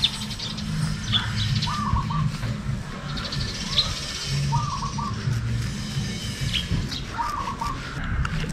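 A small bird chirps in short repeated bursts at close range while it is held by hand to have an inner-ring leg band removed, with low handling rustle underneath.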